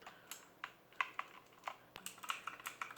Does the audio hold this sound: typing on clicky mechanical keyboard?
yes